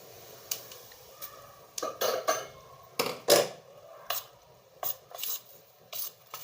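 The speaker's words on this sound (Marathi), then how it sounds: "हाताने नाही मिक्स करायचं, लगे त्याला चमच्याच्या साह्याने मिक्स करायचं असा" A spoon stirs and scrapes through a dough mixture with hot oil in a metal vessel, giving irregular clinks and scraping strokes, close and fairly quiet, with no talking.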